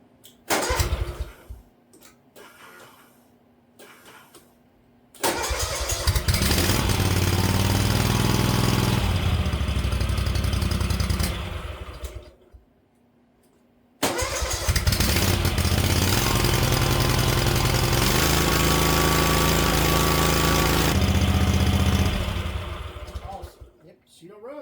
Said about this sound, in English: I guess I need to probably fire it up now and see, since I've done all this, if it runs.